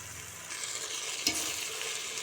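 Masala with tomatoes fries in a pan for chicken gravy, a soft continuous sizzle with a single light scrape of the spoon, fairly quiet and with no voices.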